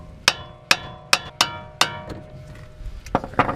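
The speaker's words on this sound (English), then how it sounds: "I just kind of bang it up a little bit." Metal hammer blows on a car's steering knuckle, freeing the ball joint during a brake install on a Honda CB7: five sharp ringing strikes at an even pace, then several lighter, quicker taps, close and loud with no talk.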